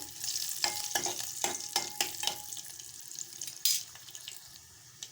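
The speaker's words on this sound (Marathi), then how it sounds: "आता मिश्रण छान एकजीव करून घेऊया आपण" Horse gram kadhan mixture with garlic, cumin and curry leaves being stirred in a pot, a run of irregular scraping and splashing strokes over a soft wet sizzle, close by with no talk.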